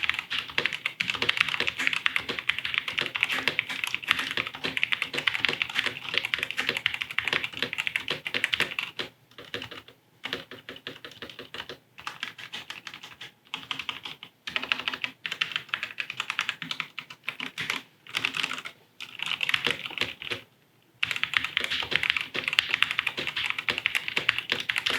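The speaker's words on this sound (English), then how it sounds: "give it a quick listen to see how it sounds" Steady, rapid typing on a Tecware Phantom budget gaming keyboard with thick plastic keycaps, a dense stream of close, clacky keystrokes with a few brief pauses, and no talking.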